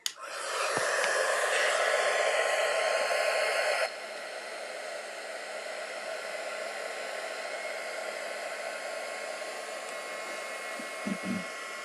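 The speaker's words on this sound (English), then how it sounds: "So I'm going to do the heat gun on the opposite side so it pushes" A heat gun blows hot air in a steady, loud rushing hiss that drops to a slightly lower, constant level partway through and continues without pause.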